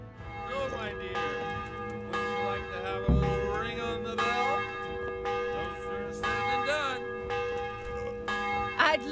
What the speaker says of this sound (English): would you like to have a little ring on the bell?